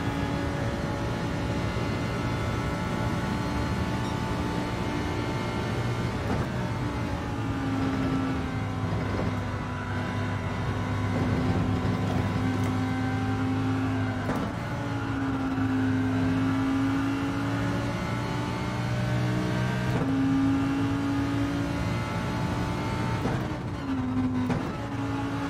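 A Lamborghini in Gran Turismo 7 drones with a steady, sustained engine note, its pitch rising and dropping through repeated gear shifts and throttle changes over a long continuous run.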